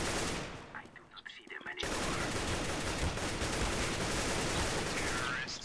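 Gunfire in Counter-Strike: Global Offensive, a rapid run of shots after a quieter stretch, loud and sustained over an undercurrent of game noise.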